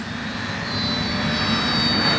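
An FMS Ranger 1220 RC plane flying overhead gives a steady, whining electric motor and propeller drone that swells slightly louder over a couple of seconds, with no talking.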